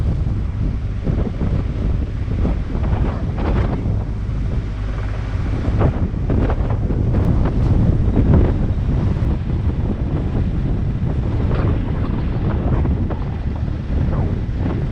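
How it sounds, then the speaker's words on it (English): Strong wind roars and buffets the microphone aboard a canal boat near Doncaster Dock, a loud, continuous low rumble with gusting surges throughout. "I'm fed up of battling against the wind today"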